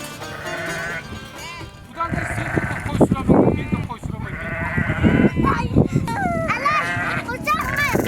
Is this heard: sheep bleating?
yes